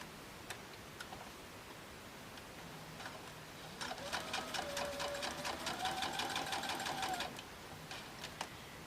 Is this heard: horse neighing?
no